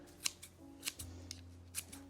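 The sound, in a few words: herb scissors snipping green onion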